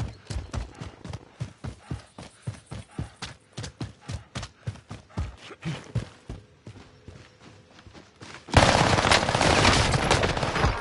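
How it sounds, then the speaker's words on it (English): Rapid bursts of gunfire in a first-person shooter game, loud close sharp cracks in an uneven rhythm over about eight seconds, ending in a sustained burst of dense, roaring noise. "They're shooting me!"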